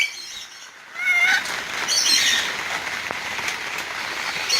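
A Moluccan (salmon-crested) cockatoo gives a few brief, fairly faint calls against a background hiss, most noticeable in the first couple of seconds.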